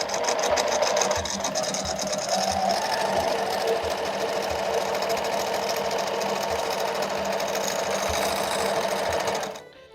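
A sewing machine runs steadily for free motion quilting, a continuous fast needle hum that holds nearly ten seconds alone before cutting off at the end.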